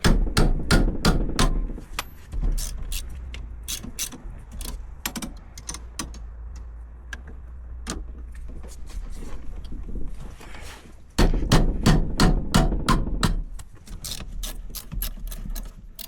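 A tool loosens a stout, tight 14 mm rear brake caliper bolt in a series of loud, close, rapid impacts, pausing midway for softer clicks and rattles, then hammering again in a fast burst.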